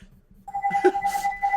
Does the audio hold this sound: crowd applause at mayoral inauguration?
no